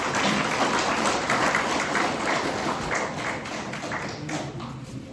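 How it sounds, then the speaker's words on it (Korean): An indoor audience at a gathering applauds in a dense, steady clatter of many hands that fades slightly toward the end. "우리 조 선생님께 박수를 보내주시기 바랍니다"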